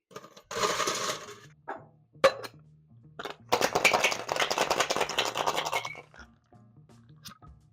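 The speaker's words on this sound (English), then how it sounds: "you're going to take more ice, you're going to add it to your shaker, and we're going to give it a shake" Ice rattling inside a cocktail shaker during drink mixing, with a short burst of shaking, a few separate clacks, then a longer run of rapid, close, crunchy rattles before it stops.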